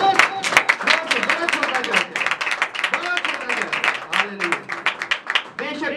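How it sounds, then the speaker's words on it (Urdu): A church congregation bursts into applause during a worship service, dense scattered clapping running throughout alongside voices that carry on over the noise. "خدا کے جلال کے لیے تالیاں"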